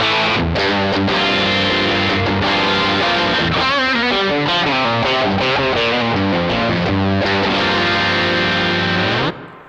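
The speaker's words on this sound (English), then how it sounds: "Lovely kind of medium gain kind of rock tones." An electric guitar plays chords and riffs through a crunchy, moderately distorted Mesa Boogie Mark V 35 amp at medium gain, loud and sustained, then cuts off near the end.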